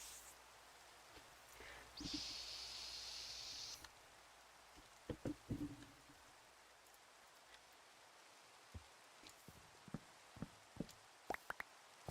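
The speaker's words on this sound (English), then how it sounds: "of course it's raining." Rain falls in the Minecraft video game as a soft, faint hiss, with scattered light taps and clicks breaking through and a brief brighter burst of noise near the start.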